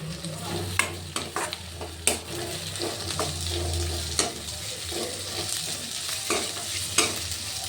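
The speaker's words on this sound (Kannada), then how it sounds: "ಒಂದು ಗಡ್ಡೆಯಷ್ಟು ಬೆಳ್ಳುಳ್ಳಿ ಬಿಡಿಸಿ ಹಾಕ್ಕೊಂಡು ಇದನ್ನು ಫ್ರೈ ಮಾಡ್ಕೊಳ್ತೀನಿ." Ginger and garlic frying in a pan, with a steady sizzle under repeated clinks and scrapes of a spoon stirring, close and fairly loud with no talk.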